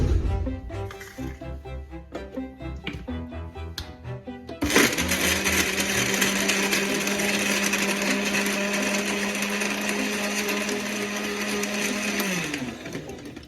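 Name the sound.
blender mixing strawberry milkshake with ice cubes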